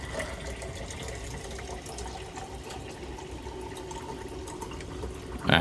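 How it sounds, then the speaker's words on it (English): Sparkling water pouring steadily into a glass, a continuous fizzy hiss and trickle lasting several seconds at close range, ending with a slightly louder splash or clink. "I'm going to pour myself some water."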